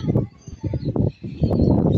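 Racing pigeons returning to a loft in Catarman, Samar, with repeated soft cooing and fluttering bursts close by, uneven and rhythmic, mixed with a few faint chirps.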